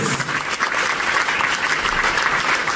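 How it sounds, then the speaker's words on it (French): Audience applauding at an awards ceremony as a nominee is called up, a dense, steady wash of clapping from a full room with no voices over it. "je vais appeler monsieur Ali Sidou de Trusted, s'il vous plaît, sous vos applaudissements"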